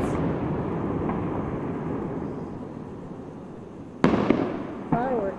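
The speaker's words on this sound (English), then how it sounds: "Fireworks are hundreds of years old." Fireworks at the Thunder Over Franklin display, 2009: a steady roar of distant bursts and crackle, then a sharp loud bang near the end, with faint crowd voices.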